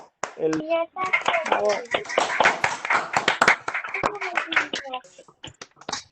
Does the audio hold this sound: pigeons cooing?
no